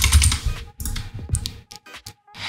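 Keys tapped on a computer keyboard inside a video game while a code is entered at a keypad, a loose run of quick clicks and taps with pauses between bursts, over a low game background.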